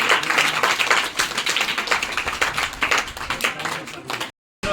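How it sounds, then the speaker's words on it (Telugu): Dense, sustained clapping from a crowd at a birthday celebration held at a government high school, loud and close with a busy, uneven rhythm and some voices underneath, stopping abruptly near the end. "చప్పట్లు సార్."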